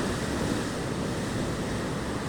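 Ocean surf breaks on a beach in West Java, Indonesia, a loud continuous roar of waves mixed with wind buffeting the microphone, with no voices.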